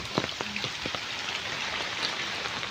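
Heavy rain pouring down steadily on surfaces in a village, a dense constant hiss with scattered louder drops and splashes, no voices.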